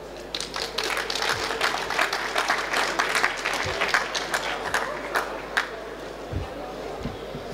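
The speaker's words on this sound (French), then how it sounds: "Bravo, je pense qu'on peut applaudir nos silos RRA." An audience at a start-up pitch event gives sustained applause, with dense steady clapping throughout and a few louder thumps mixed in.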